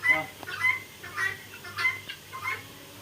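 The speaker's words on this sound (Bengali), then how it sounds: "এই যে আমি মুরগিরে ঘাস দিতেছি" Chickens clucking while pecking at grass on a farm, short repeated calls about every half second over low background hum, with faint talk nearby.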